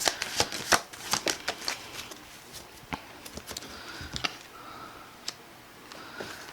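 Tarot cards are shuffled and drawn during a reading, a close series of crisp riffling flutters and soft slaps that come in quick bursts, then thin out into occasional single card snaps.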